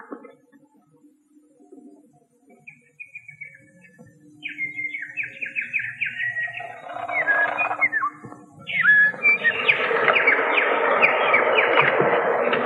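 Swallows chirping on a house roof, a cluster of high squeaky twitters and whistles that start sparse and faint, then swell into a dense, continuous chatter of several birds close by.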